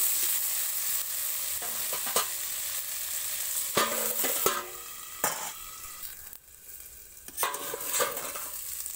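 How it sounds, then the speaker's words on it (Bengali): Potatoes frying in oil in a pan, a continuous sizzle with repeated sharp scrapes and clinks of a spatula stirring against the pan, close and moderately loud, no talking. "লাল করে ভেজে নেব আলুটা।"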